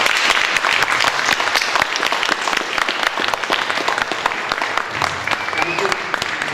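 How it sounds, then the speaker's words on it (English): Loud, sustained applause from an audience at a 2019 election candidates' forum in Philipstown and Cold Spring, dense clapping throughout with a few voices underneath. "Ladies and gentlemen, a round of applause for the candidates."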